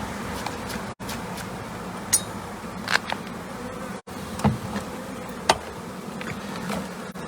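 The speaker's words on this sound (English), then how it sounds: "Get all the bees off it." Honey bees buzz steadily around wax comb during a colony removal from a chimney in Nantwich, a dense continuous swarm drone close by with occasional louder passes and brief dropouts, no talking.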